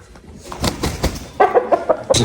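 A rooster, a Korean-breed fighting cock kept in Namangan, gives a quick run of short, sharp clucks, close and loud after a brief stretch of softer rustling.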